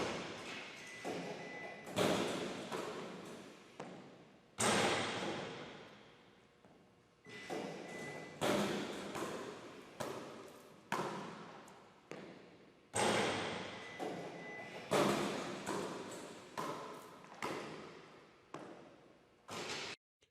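Basketball shooting drill on an indoor court with a Dr. Dish shooting machine handling the rebounds, giving repeated sharp ball thumps and bounces in an irregular rhythm, each echoing and fading in the hall.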